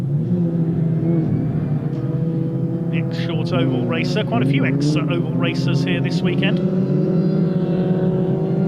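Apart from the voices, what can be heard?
rallycross race cars racing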